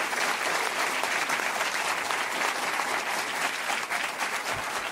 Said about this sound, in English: So I just want to invite a round of applause for all of them.